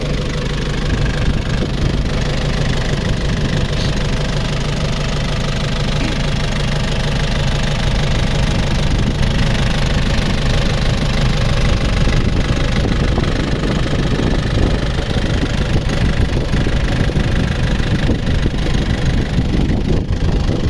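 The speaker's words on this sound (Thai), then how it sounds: "เสียงเครื่องเงียบมากๆลูกค้าลองฟังเสียงนะ" A 1996 Nissan Big M pickup engine idles steadily and close by, a low, even rumble with a faint knocking rhythm running through it, no voices.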